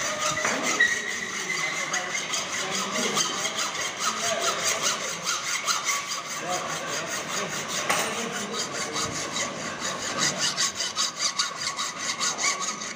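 A hand hacksaw cuts through a metal workpiece, part B, held in a vise during precision fitting practice, with steady back-and-forth strokes rasping close and continuously throughout.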